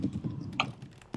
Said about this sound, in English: Because I'm typing and doing things